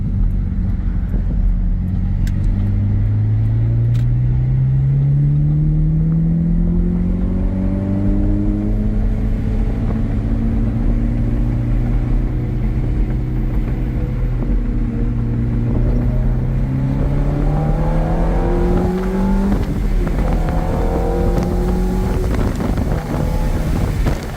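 A 2007 Ferrari F430 Berlinetta accelerates with windows down, its engine note rising through the gears in long sweeping pulls over heavy wind rush, heard from inside the car.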